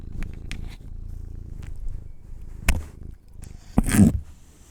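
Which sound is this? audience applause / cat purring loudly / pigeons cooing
cat purring loudly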